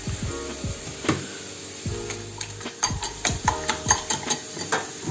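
A utensil scrapes and clinks against a bowl as omelette batter with flour is mixed, quick rhythmic strokes that speed up toward the end, close and fairly quiet.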